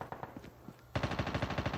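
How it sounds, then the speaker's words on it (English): Rapid automatic gunfire from Call of Duty Mobile played on a 2017 iPad 5th Gen: scattered quieter shots at first, then a loud, steady, close burst of rhythmic firing until the end. "Oh, gunfire coming over my shoulder as well."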